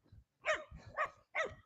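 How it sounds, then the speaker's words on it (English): A puppy-sized dog outdoors gives three quick, separate barks in an even rhythm, fairly close and moderately loud with nothing else around them. "it gets to barking"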